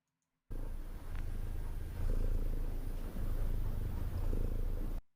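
Close, continuous cat purring rumbles low and even after a brief silent start, steady until it cuts off at the end, with no voices.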